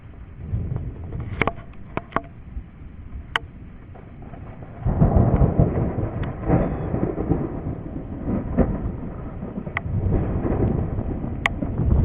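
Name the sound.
thunder from a lightning strike during a storm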